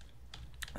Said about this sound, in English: if you want to use your keyboard, you just need to press Z